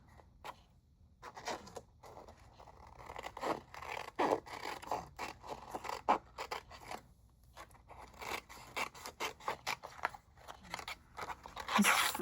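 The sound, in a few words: scissors cutting lemon lime glimmer paper freehand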